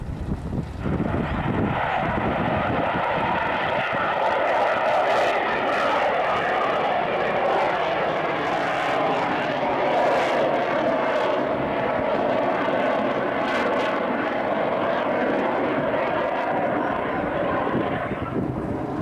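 A C-130 transport plane known as Fat Albert making a rocket-assisted JATO takeoff at an air show, a loud sustained engine and rocket roar that swells and holds for the whole stretch, with faint crowd voices beneath.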